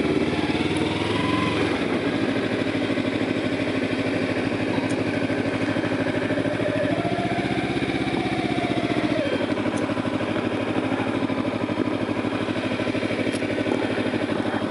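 Motorcycle engine idling at a crossroad, a steady close throbbing putter that holds constant, with a brief rising rev partway through and wind rush over it.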